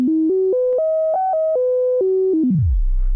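A steady Kastle Arp synthesizer tone in its default timbre steps up and down through a simple sequence of pitches without breaks, then slides smoothly down into a low buzz.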